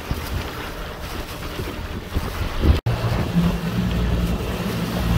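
A small boat pounds through rough, muddy waves on the Danube between Maliuc and Periprava, strong wind noise and water rush with a hard thump midway.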